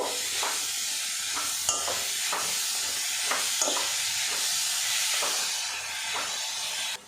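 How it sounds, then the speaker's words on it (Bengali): Grated carrot stirred with sugar in a hot pan, giving a steady soft hiss and sizzle with faint scraping strokes of a spoon recurring throughout, moderately quiet and with no talking. "চিনির সাথে গাজরটা একটু নাড়াচাড়া করে নেব"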